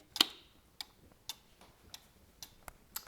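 An antique Black Forest carved wooden cuckoo clock ticking, with a sharp first tick followed by lighter, evenly spaced ticks roughly every half second, heard close and fairly quiet with no voices.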